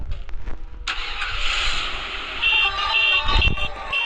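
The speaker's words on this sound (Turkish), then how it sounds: "Şu, şu arabanın sesine bir baksanıza ya." A car engine turns over and catches, then runs with a strained, whining, uneven rev, loud and close, with faint background noise.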